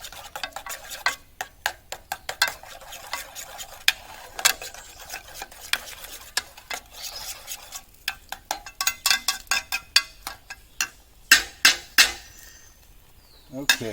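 A utensil stirs butter melting in a pot over a fire. Irregular metallic clinks and scrapes against the pot come in bursts, growing busier and louder toward the end, with a faint background sizzle.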